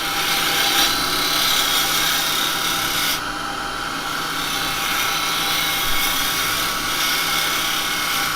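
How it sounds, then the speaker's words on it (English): A spindle gouge cuts into wood spinning on a lathe, giving a steady, loud rasping hiss that runs unbroken throughout, with a brief shift in tone partway through. "now with a spindle gouge it's easy to just cut that in"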